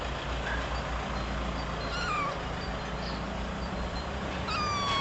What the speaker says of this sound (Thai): คือตัวนี้นี่แม่เขา นี่แม่แมว